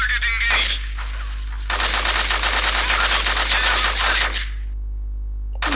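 Sustained automatic gunfire in Hitman: Contracts, loud and continuous bursts over a steady low hum, pausing briefly, then resuming before cutting off near the end; no talking.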